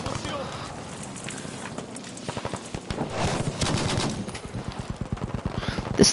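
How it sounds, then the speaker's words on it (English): A Bren light machine gun fires in Battlefield V, with rapid, rattling bursts of automatic fire, loud and repeated, under a player talking over the gameplay. "thing is literally an LMG turret"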